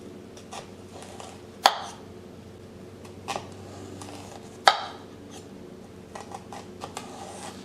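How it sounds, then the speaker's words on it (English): A knife dices an onion on a cutting board, giving a few sharp, isolated cuts and taps spaced seconds apart, close but fairly quiet, amid faint handling noise and no talk. "For each onion half, make lengthwise cuts starting from root end."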